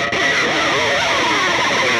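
Heavily distorted, high-gain electric guitar, a Jackson Flying V, plays a thick, saturated, sustained tone, loud and close, with no voices.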